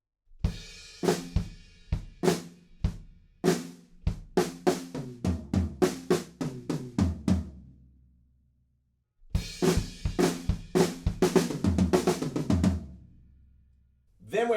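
Drum kit fill from a song, rapid close hits tumbling across the drums with a ringing low tail, a pause, then another dense run of strikes.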